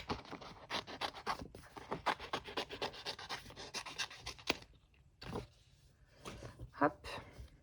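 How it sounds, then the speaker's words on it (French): Scissors snip through paper up close in quick, irregular cuts, each a short crisp scrape, then a few scattered snips after a pause. "je cherche ma paire de ciseaux, donc je vais découper lui"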